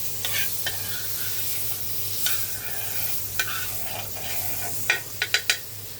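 A sandwich sizzles in butter on a hot tawa with a steady crackling hiss, close up. A spatula scrapes and taps against the pan in sharp bursts, clustering into quick scrapes near the end.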